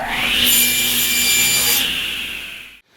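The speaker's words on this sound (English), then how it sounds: "I'm basically going to start right now with the table saw where I can cut all my pieces to size" A table saw cutting scrap walnut: a loud, close, steady whining rip of the blade through the wood, brighter and more intense partway through, then fading and cutting off abruptly near the end, with no talking.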